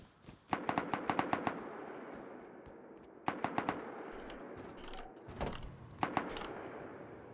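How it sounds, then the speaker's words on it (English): An AK rifle fires in short bursts of rapid shots, heard at a distance in the video game Rust. The crisp, fairly faint bursts are separated by gaps over a low background. "then I started hearing an AK in the distance"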